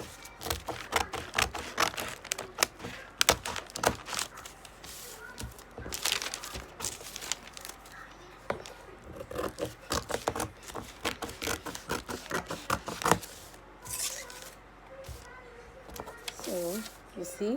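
Scissors cutting out a paper shoulder dart pattern for a bustier, with steady crinkling, snipping and rustling of paper close by, continuing through most of the stretch under intermittent talk.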